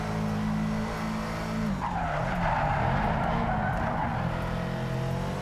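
Tyres skid through a handbrake drift in Project Cars 3, a sustained, loud squeal and scrub of rubber over a steady roaring race-car engine whose pitch dips and climbs, continuous for several seconds.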